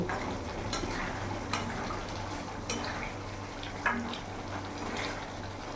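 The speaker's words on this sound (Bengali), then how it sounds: "এবার মাছগুলো দিয়ে ভালো করে কিছুক্ষণ ফুটিয়ে নেব।" Pieces of rohu fish simmering in a tomato curry, with a continuous bubbling, watery sizzle and a few sharp clinks and scrapes scattered through it.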